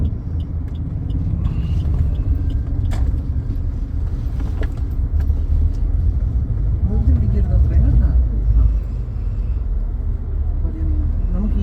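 A Swift Dzire petrol car pulls away in first gear on half clutch during a driving lesson, its engine giving a low, steady rumble close by while a voice talks over it.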